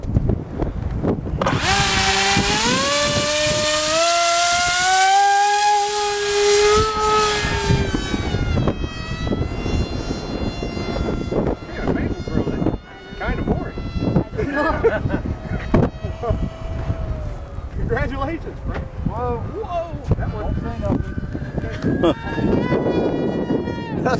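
A small RC plane's electric motor spins up to a loud, high whining whistle with rising and falling pitch, sustained and close, as people talk over it.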